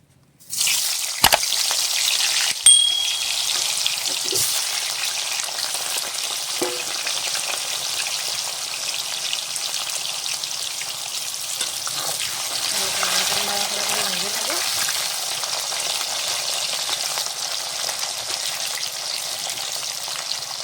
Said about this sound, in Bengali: তেল গরম হয়ে গেছে, আলুটা ছেড়ে দেবো এখন।